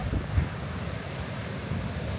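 Surf rolls in at Redondo Beach, a continuous low wash of waves mixed with gusty wind buffeting the microphone, steady and fairly loud with no voices.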